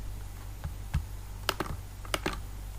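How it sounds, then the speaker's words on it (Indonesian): Close, crisp computer keyboard presses, a handful of quick clicks in small clusters as Ctrl shortcut keys are struck, over a quiet low hum with no voice. "maka ketika kita tekan Ctrl L dia akan rata kiri"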